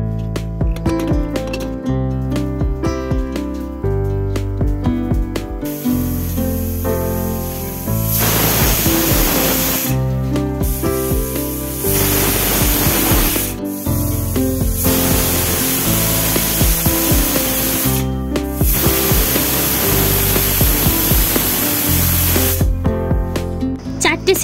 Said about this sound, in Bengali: এবার প্রেসার কুকারে ঢাকনা বন্ধ করে গ্যাসের ফ্লেম হাই করে 4টে সিটি মারা পর্যন্ত অপেক্ষা করব।